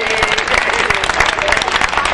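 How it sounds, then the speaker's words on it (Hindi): An audience at a Hindi poetry recitation claps loudly and densely, a close, continuous burst of many hands with distinct individual claps standing out through the whole stretch. "दोनों हाथ खोल जरा ताली हम बजाइए"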